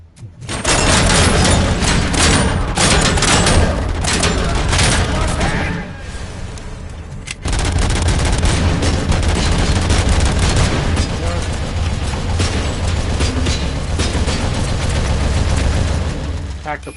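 Sustained rapid turret gunfire in Robocop: Rogue City, loud and dense, with a brief drop near the middle before the bursts resume, and some talk mixed in.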